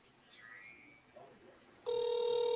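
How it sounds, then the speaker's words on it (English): A telephone starts ringing partway through, a loud steady electronic ring that goes unanswered, with faint voices and room noise before it. "He ain't even answering the phone."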